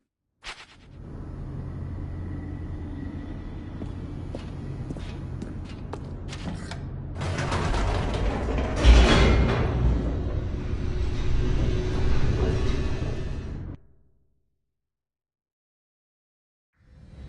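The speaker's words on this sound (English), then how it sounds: "The elevator raced downward, plummeting towards an unknown fate." An elevator descending in the video game The Stanley Parable: a steady mechanical rumble with creaks and rattles that builds and grows louder, then cuts off abruptly into silence before a brief noise returns at the end.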